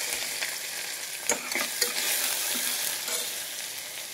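Cabbage frying in a pan with green chilli, a constant bright sizzle punctuated by a few sharp scrapes and clacks of a spatula stirring, close-up and with no voices.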